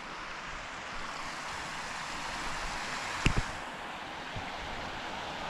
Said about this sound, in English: just the sound of that water running is beautiful.